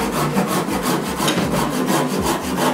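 A large-tooth hand saw cuts through a fresh, sappy tree branch in steady, rapid back-and-forth strokes, a close, continuous rasping rhythm with no voices.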